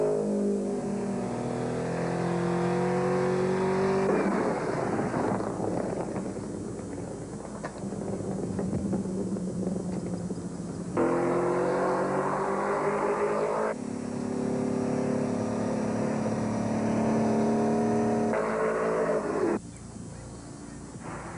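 A 1985 Porsche race car driven by John Watson laps a track, its engine roaring loud and near as it accelerates through gears, fading and surging again as it passes, with repeated upshifts.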